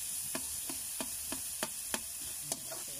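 Tomatoes cooking in a pan under a soft continuous sizzle, with a spatula tapping and scraping against the pan in irregular strokes roughly every half second.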